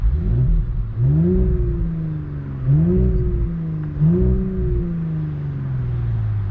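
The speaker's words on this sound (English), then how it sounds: "you can hear the car actually" A 2021 Audi S4 (B9.5) engine revs repeatedly in individual drive mode, three rising surges that fall back and hit a soft limiter, loud and close with no voices.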